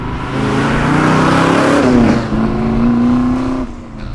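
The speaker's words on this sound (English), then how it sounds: "listening to those Flowmasters roars" A Chevrolet Chevelle's V8 exhaust through Flowmaster mufflers roars loudly as the car accelerates, engine pitch climbing through a gear, then the note drops as it backs off.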